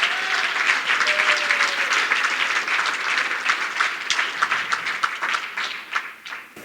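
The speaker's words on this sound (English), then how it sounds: "him another round of applause." An audience gives a sustained round of applause, dense clapping that stays fairly loud and fades a little toward the end, with individual claps becoming more distinct.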